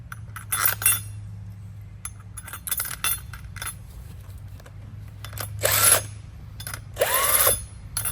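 Metal bolts dropped into a boat's rotary steering helm, several bright clinks and rattles in irregular bursts, with a couple of longer scraping jingles near the end, close and fairly quiet against a low steady hum.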